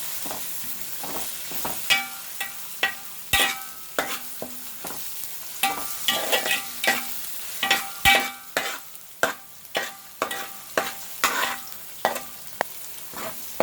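A pan of masala fries before small fish pieces go in, loud repeated spatula scrapes and clinks beating out a steady stirring rhythm over a continuous sizzle, with no talking.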